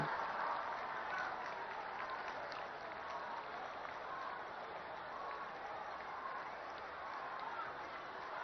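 An audience at a government inauguration and foundation-laying event applauds to welcome the Prime Minister, with steady, sustained clapping throughout and no voices rising above it.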